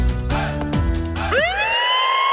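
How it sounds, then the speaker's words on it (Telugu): An ambulance siren sounds on a busy road in a Telugu comedy skit: loud, steady, buzzing harmonic tones followed by a sharp rising wail that climbs and holds high. No voices are heard. "అంబులెన్స్ వస్తుంది కదా, అటు తప్పుకో"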